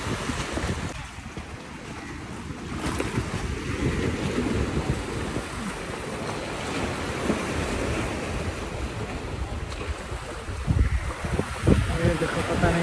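Sea waves surging at Do Darya on the Karachi coast, a steady broadband wash of surf with wind buffeting the microphone, rising slightly near the end; a voice is faintly present.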